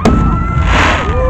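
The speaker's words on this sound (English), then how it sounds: "I think now they're getting into the fireworks." Fourth of July fireworks at a Cape Carteret, North Carolina show give a sharp bang and then a loud, continuous crackling roar with whistling, close and dense.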